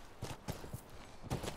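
Horse hooves clip-clop in The Last of Us, a quick series of hollow clopping hits at a walking pace, moderately close, with game ambience behind.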